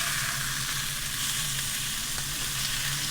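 Food sears steadily in a hot pan on a camp stove, a dense, even sizzle that holds without letup, close and fairly loud with no talking.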